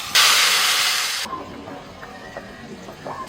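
A sharp burst of loud hissing and sizzling for about a second as water is poured into a pan of frying papaya and potato, then it drops away to quiet, faint bubbling.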